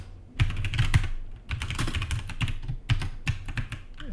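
Fast bursts of keystrokes on a computer keyboard while code is written, crisp and close with short pauses between runs of clicks, no voice present.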